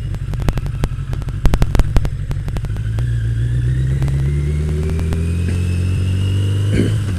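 Harley-Davidson Maxim 650 motorcycle on a morning ride, engine loud and close, revving through a few sharp bursts and then settling into a steady rising drone as it accelerates.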